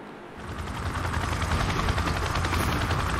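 Helicopter from Call of Duty 4: Modern Warfare, a steady loud rotor drone with rapid chopping pulses building from a brief quieter start and holding throughout, no talking.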